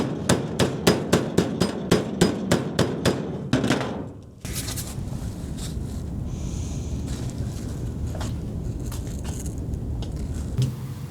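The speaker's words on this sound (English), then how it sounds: "be sure not to move your cardboard while you're hammering it" Hammer blows on sheet metal while shaping a rocker panel over a cardboard template for a 1971 K5 Blazer, about a dozen sharp ringing strikes in a quick steady rhythm, then stopping, followed by quieter workshop background and wind.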